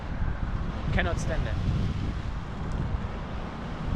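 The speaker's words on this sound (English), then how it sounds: "By the way, why is it so windy?" Strong wind buffeting the microphone with a constant low roar, while brief distant voices surface faintly partway through.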